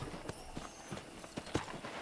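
Horse hooves clip-clopping at a walk in the Western video game Red Dead Redemption, a steady sequence of quiet, close hoof clops with no speech.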